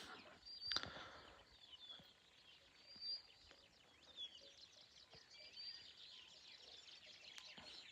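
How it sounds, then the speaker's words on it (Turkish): Several birds chirp and call in scattered bursts over a steady outdoor background in a forest by a lake at Düzköy, Trabzon, with brief louder calls near the start. "Kuş sesleri geliyor mu?"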